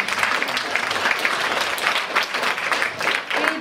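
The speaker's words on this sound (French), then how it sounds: "Chaplin, magnifiquement incarné par Eva, je vous demande d'applaudir." An audience at a French music school's cinema-themed concert applauds a performer, steady clapping from a hall of listeners with fluctuating intensity throughout and a slight swell near the end.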